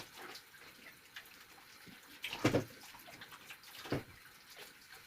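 Water runs and splashes in short, uneven bursts as vegetables are washed at home, with two louder splashes standing out over a quiet background.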